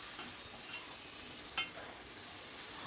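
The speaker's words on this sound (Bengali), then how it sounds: "এবারে আমি এর ভিতর দিয়ে দেব ভেজে রাখা ভেন্ডিটা, দিয়ে সব কিছু আবারও ভালো করে মিশিয়ে নিচ্ছি" Fried okra being stirred into an oily spice masala in a pan, a steady low sizzle with soft scraping strokes and one sharper clatter of the spoon, close and alone.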